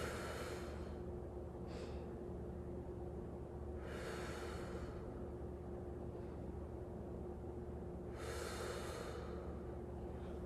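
Slow, steady breaths during a yoga pose, with three soft airy exhalations spaced a few seconds apart over a constant low background hum.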